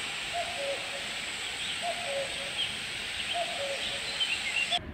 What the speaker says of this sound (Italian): dimmi un po' se questo è il verso del cuculo che cucula